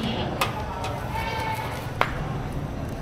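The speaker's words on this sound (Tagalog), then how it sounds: "Napakadaming kambing" Goats bleating at a crowded early-morning goat market in Padre Garcia, Batangas, several calls rising over a busy crowd murmur, with a couple of sharp knocks.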